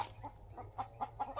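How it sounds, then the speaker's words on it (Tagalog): A chicken clucks in a short series of soft, repeated clucks at a moderate distance over a low steady hum. "Nadidistract ako sa manok."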